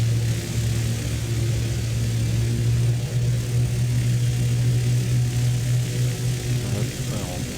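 Steady drone of Canadair water bomber propeller engines in Microsoft Flight Simulator 2020, a constant loud low hum with a strong tonal band holding evenly throughout, no talk.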